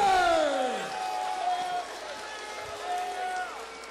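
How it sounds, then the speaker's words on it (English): A crowd at a Fight Lab 43 MMA event cheers loudly for fighter Josh "Shotgun" Ungar, a dense, sustained roar that holds steady for several seconds and then tapers slightly. "give a big round of applause to Josh Shotgun Ungar"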